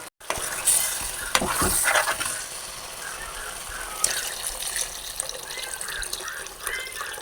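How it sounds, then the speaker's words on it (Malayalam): Water splashes and trickles into a simmering pot of fish curry after a few clatters, then a steady soft sizzle and bubbling carries on up close. "ഇതിലേക്ക് നമുക്ക് കുറച്ച് വെള്ളം ഇതിനാവശ്യമായിട്ടുള്ള വെള്ളം ആഡ് ചെയ്ത് കൊടുക്കാം"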